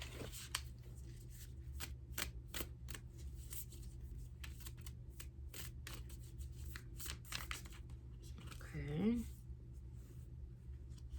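Tarot cards being shuffled by hand, a run of quick crisp riffling flicks that thin out toward the end, with a brief voice near the close over a low background hum.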